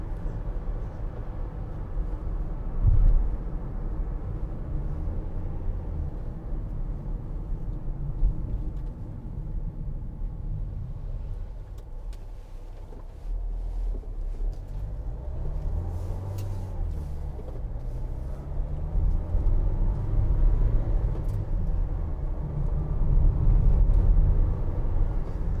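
Interior of a 2016 Vauxhall Vivaro 1.6 CDTi ecoFLEX van on a test drive, a continuous low diesel engine and road rumble with gear changes and rising engine note, steady and close throughout.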